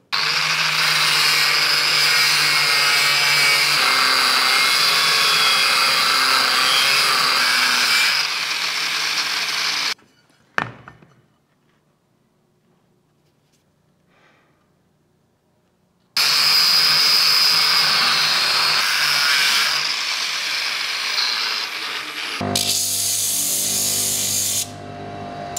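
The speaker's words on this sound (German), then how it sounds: "Nehme meinen Stahl, den lege ich hier an die Anschlagschiene an und dann kann ich hier geführt mit der Flex wirklich 90 Grad Schnitte ausführen." Angle grinder cutting steel held against a guide rail jig, loud and sustained for about ten seconds, then a pause of near silence before the grinder roars through a second long cut, ending in a lower rumble.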